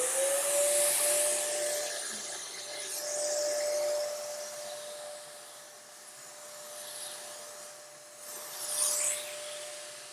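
A spray gun lays down a coat of Plasti Dip over a scratched finish from a medium distance. It gives a steady, close hiss with a thin constant whine underneath, swelling in a few passes and strongest near the end.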